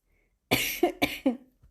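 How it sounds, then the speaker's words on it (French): Two harsh coughs in quick succession, each with a rasping follow-through, close and loud against silence. "Désolée pour cette toux, je suis vraiment désolée."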